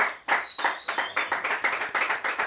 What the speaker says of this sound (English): round of applause for Malcolm again, everybody, please